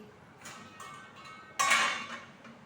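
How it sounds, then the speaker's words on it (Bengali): A wok is set down on a gas stove with light metallic knocks, then a louder clattering scrape as it settles onto the burner, close by in a quiet kitchen. "কড়াই বসিয়ে দিলাম"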